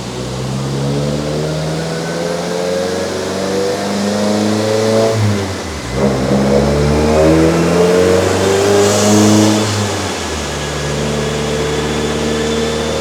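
A 2022 Subaru WRX with a Perrin front-mount intercooler revs hard on a dyno, a loud, steady engine roar climbing and easing across several sustained pulls, close and continuous with no talk.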